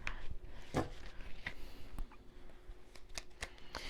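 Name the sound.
deck of tarot cards being moved aside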